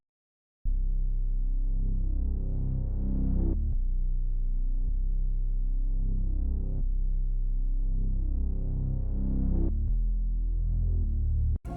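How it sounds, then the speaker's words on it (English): A bass patch from the Omnisphere synth plugin plays alone: deep, smooth sustained notes that change pitch every few seconds in a steady loop, with no voices over it. "And then I had a bass too that I added from Omnisphere, which sounds like this."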